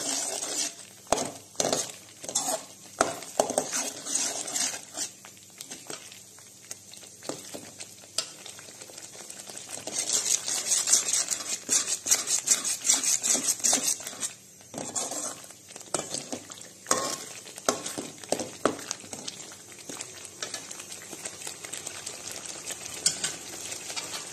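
Masala sizzles and fries in oil before mutton is added, with repeated scraping and stirring strokes against the pan over a continuous crackle that swells in the middle, with no talking.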